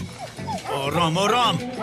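A dog barks and yips in short, rising bursts close by, mixed in with people talking loudly throughout.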